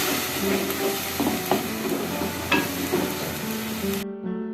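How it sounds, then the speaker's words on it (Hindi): Tomatoes and spices frying in oil in a pan, a steady sizzle with occasional soft stirring scrapes, continuous and close before cutting out near the end. "अब हम इसमें टमाटर ऐड करते हैं और इसको भी अच्छे से भूनते हैं।"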